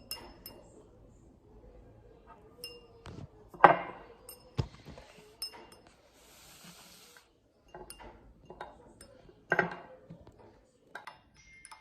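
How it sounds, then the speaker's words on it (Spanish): A stirrer clinks against a glass holding alcohol and egg white as it is beaten, giving a few scattered, fairly faint taps and scrapes over a quiet background with no talk. "verter lo que es la clara de huevo en lo que es el vaso con alcohol y notaremos cómo cambia su textura y su color y lo vamos a batir con un agitador"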